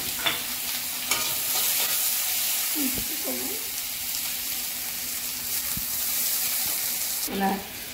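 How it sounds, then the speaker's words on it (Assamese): Steady hissing sizzle of onions frying in hot oil, with occasional scraping stirs and a faint voice murmuring briefly in the background. "পিঁয়াজ কাটি থোৱা অকণমান ৰঙচুৱা ভাজি লওঁ"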